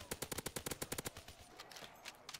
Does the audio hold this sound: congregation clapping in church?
no